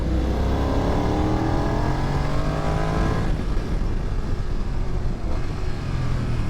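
A 2025 BMW F900 motorcycle engine revs hard and climbs through the gears, loud and close, its pitch sweeping upward before dropping and rising again.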